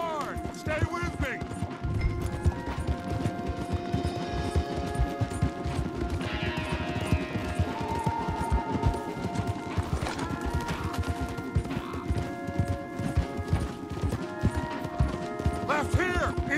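Horses gallop in Red Dead Redemption 2 with continuous, dense hoofbeats and occasional whinnies, heard under voices talking and background music.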